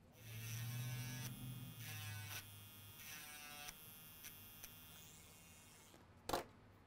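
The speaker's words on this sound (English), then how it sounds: "We need to grind some more." A rotary tool grinds down a broken pin on an NEC chip from a Mercedes-Benz key fob, a close, steady high-pitched whine in several bursts that cuts off, followed by a brief clatter.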